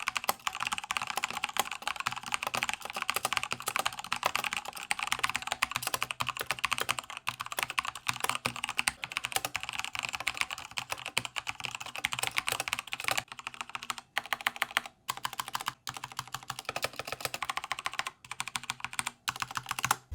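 Steady, rapid typing on a Patriot Viper V770 mechanical gaming keyboard with linear Kailh Red switches, close and loud, with dense keystrokes that thin out into separate clacks and short pauses near the end.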